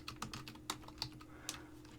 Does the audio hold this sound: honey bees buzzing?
no